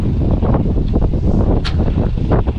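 Wind buffeting a sailboat off Ireland's west coast, a steady low rumbling roar against the microphone with brief gusty flutters, loud and close, no voices.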